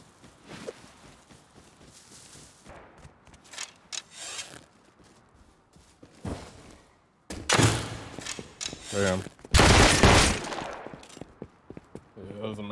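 Gunfire in the video game Rust comes in scattered shots and then loud, heavy bursts late on, mixed with rustling movement and players talking.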